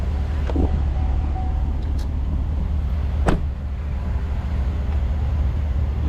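A Chevy truck engine idles in neutral on a roadside after breaking down, a steady low rumble running throughout with a couple of brief clicks or knocks over it.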